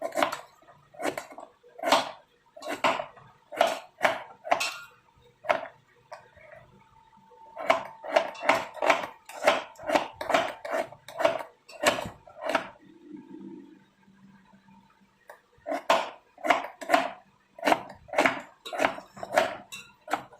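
Pasta being stirred in a pot, with rapid repeated clacks of a spoon against the metal in bursts, separated by short quiet pauses.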